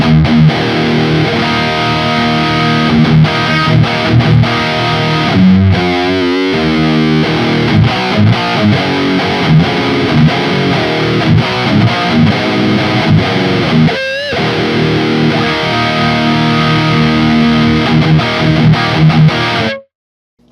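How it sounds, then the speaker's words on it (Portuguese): High-gain distorted electric guitar riff played through the Neural DSP Gojira amp plugin, loud and continuous with chugging palm-muted passages and a brief pause near the middle, stopping abruptly at the end. "Eu gosto sempre de usar a distorção do ampli nesses plugins"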